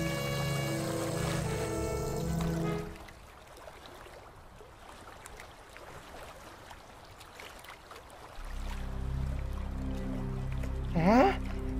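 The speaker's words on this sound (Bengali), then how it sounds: "এ কি, নৌকাটা এত দুলছে কেন?" A small fishing boat rocks on a river, with hissing, lapping water heard alone between musical passages at the start and end.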